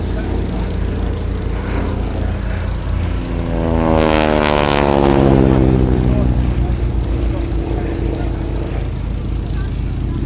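A North American Harvard propeller trainer aircraft at an air and car show makes a loud, steady droning roar that swells and shifts in pitch as it passes overhead.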